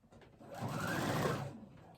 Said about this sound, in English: my sewing machine is trying so hard to eat it